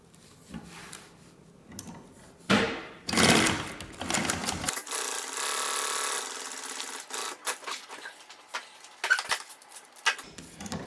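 Sewing machine stitching backpack fabric, a steady mechanical whir with a fast needle chatter running loudly for several seconds between handling clatter and brief pauses, no talking.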